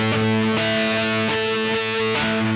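An electric guitar plays tap harmonics through distortion or overdrive, sustained bell-like tones with rhythmic tapped attacks roughly every half second, loud and close.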